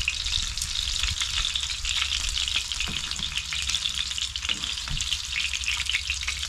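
Freshly caught snapper fries in a pan with a loud, continuous crackling sizzle, close up and steady throughout, with occasional faint stirring touches underneath and no talking.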